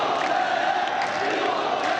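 Crowd noise at the FC Pro World Championship, a loud, steady roar of many voices on their feet, continuous and dense throughout.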